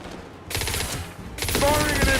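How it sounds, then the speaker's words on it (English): Impact shot gunfire in Mass Effect 2, two loud bursts of rapid shots, a brief one then a longer rattling volley after a short gap. "Firing an impact shot"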